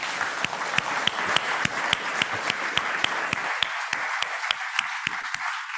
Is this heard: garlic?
no